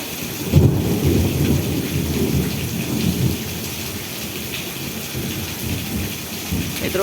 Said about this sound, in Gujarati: આ કેટલી વીજળી વરસાદ અને પવન સાથે છે।